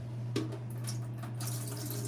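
Tap water runs steadily over a lobster being rinsed in a kitchen sink, a close, soft splashing hiss with a few brief louder splashes and a low hum underneath.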